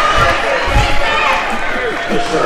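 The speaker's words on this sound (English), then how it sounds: "We've got some vocal fans. It's getting a little bit ruckus in here." A loud, vocal crowd fills a school gym during a Pennsylvania state playoff boys basketball game, a dense roar of cheering and shouting with thumps and shoe noise mixed in throughout.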